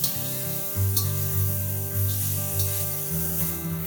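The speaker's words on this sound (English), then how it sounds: "Just brown the onions without any oil." Three sliced onions browning in a dry kadhai with no oil give a steady soft sizzle and scraping hiss, close and continuous, with background music over it.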